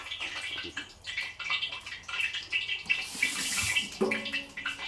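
Tap water runs over a fish as it is rinsed clean for a traditional Cantonese fish soup, a close splashing stream that shifts as the fish is turned, with a brief clunk near the end.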